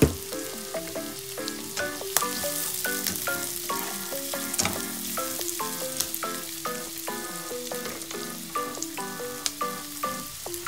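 Adobong sitaw (string beans) frying and being stirred with pepper in a pan, a steady sizzle with repeated utensil scrapes and clinks throughout, close and fairly loud, no voices.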